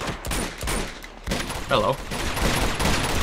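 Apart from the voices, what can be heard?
gunfire in Uncharted 2 video game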